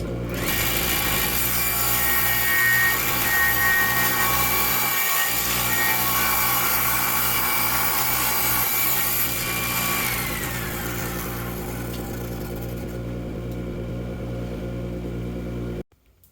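A power saw cutting through wood while making a push block from an old guitar, a steady loud whine and grinding that runs for about ten seconds, then eases to a lower hum before stopping abruptly.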